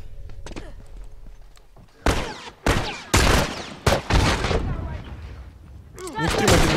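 Gunfire in The Last of Us multiplayer, with several loud sharp shots in bursts and short gaps between them. They land over a busy game soundscape, and a voice is heard faintly at times.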